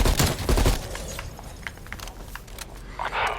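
Rapid bursts of gunfire crackle in quick succession with sharp impacts and scattered thuds, mixed with game effects, as zombies are killed in Call of Duty: Black Ops Cold War.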